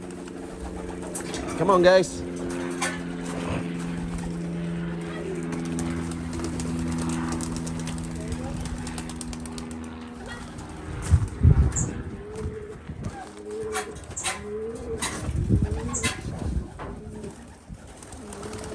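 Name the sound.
young racing pigeons released from loft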